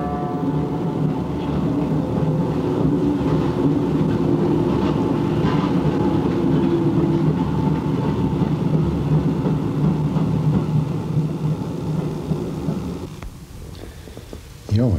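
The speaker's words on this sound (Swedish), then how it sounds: "Det vi nyss hörde, det var ett av tågen som passerade utanför mina fönster." A train passes outside a window in Berlin, a loud sustained rumble that fills most of the clip before cutting off sharply near the end, with no talk.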